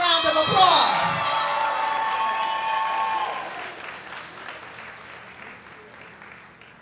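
A round of applause at a STEM 8th grade graduation ceremony in the River Rouge School District greets the salutatorian, with loud clapping, cheers and whoops peaking early, then thinning and fading over several seconds.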